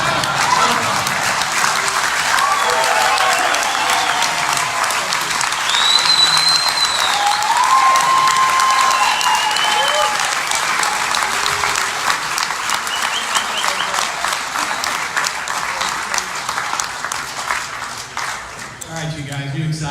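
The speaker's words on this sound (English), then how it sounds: "let's give this man a big applause" Sustained audience applause at a coin collectors' event in New York, loud and steady for about twenty seconds with scattered cheers, easing slightly near the end.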